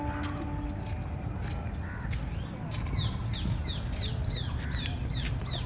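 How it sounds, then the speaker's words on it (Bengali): Birds call naturally around Rabindra Sarobar lake, with repeated short chirps and a few caws over a constant outdoor hum and distant background noise. "আর আমি হচ্ছে ন্যাচারাল এর পাখির কলতান দিচ্ছি।"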